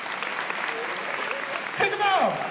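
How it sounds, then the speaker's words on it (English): A live audience at a hypnosis show claps in steady, dense applause throughout, with a few voices and a brief whoop rising near the end. "Let's give a hand for concentrating."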